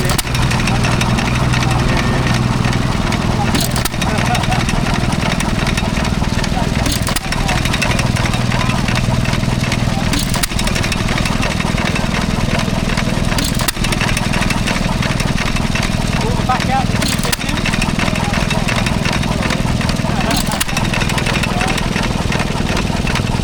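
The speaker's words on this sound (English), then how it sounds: "Someone working on a stationary engine" A stationary engine running at a country show in Sussex, a steady close mechanical chug with regular periodic knocks about every three and a half seconds, continuous throughout with crowd background.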